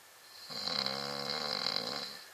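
A sleeping man lets out one long, rasping snore that swells and fades over about two seconds. It is heard up close in a quiet room.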